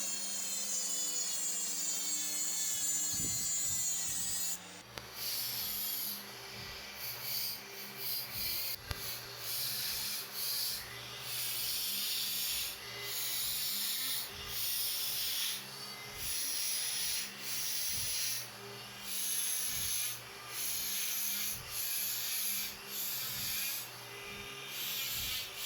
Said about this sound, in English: used Dremel cutting wheels to score the steel